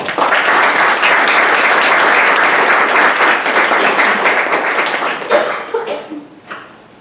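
An audience at a lecture on violence in Malory's Morte d'Arthur applauds to welcome Dr. Adderley, with loud sustained clapping for about five seconds before it thins out and fades.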